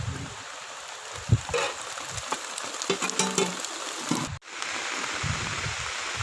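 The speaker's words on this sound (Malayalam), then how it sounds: "നല്ല ശക്തമായ മഴ പെയ്തുകൊണ്ടിരിക്കുകയാണ്" Heavy rain pours down outdoors while people shelter under an umbrella, a dense continuous hiss with scattered close patters and splashes, fairly loud throughout.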